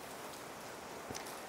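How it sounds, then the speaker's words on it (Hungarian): Rain drips and patters outdoors beside a Toyota Yaris in Budapest, a soft, faint, steady hiss of drops. "miért csöpög az eső, és miért dörög az ég?"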